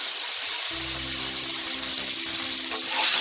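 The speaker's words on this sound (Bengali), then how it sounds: "ফুলকপিটা লাল করে ভাজা হয়ে গেছে।" Cauliflower florets seasoned with salt and turmeric fry in oil in a kadai, giving a steady, close sizzle that runs evenly and grows slightly louder toward the end.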